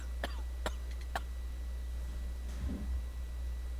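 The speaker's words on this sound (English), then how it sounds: "You have a severe cough." A video game character coughs in a few sharp, separate bursts in Sherlock Holmes The Devil's Daughter, a man with coal dust in his lungs, followed by a low rough throat sound against a steady background hum.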